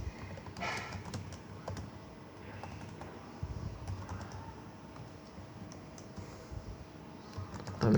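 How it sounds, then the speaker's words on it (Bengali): Computer keyboard keys clacking steadily as program code is typed, a continuous run of close, quiet keystrokes with no voices. "আমি কিছু লাইন আগে লিখে নিচ্ছি আমাদের প্রোগ্রাম করার জন্যে।"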